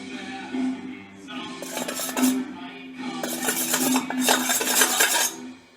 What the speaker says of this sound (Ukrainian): Це все треба також ретельно перемішувати вінчиком.